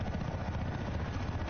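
Helicopter in Battlefield 4 landing for resupply, a dense continuous rotor and engine roar with a choppy low-end pulse, loud and steady throughout with no voices.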